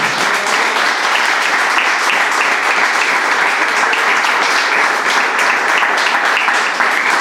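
A church congregation breaks into loud, dense applause, a continuous roar of many hands clapping close and full that stays level from start to finish.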